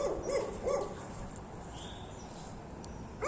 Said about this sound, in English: That dog's gonna get me